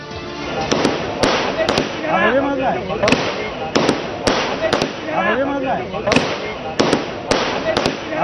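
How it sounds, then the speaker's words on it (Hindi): Firecrackers go off outside Rahul Gandhi's residence on Tughlaq Lane, a rapid series of loud sharp bangs over a crowd's continuous shouting and cheering. "आप देख रहे हैं कि तुगलक रोड उनके आवास स्थित पर ये पटाखे जलाए जा रहे हैं"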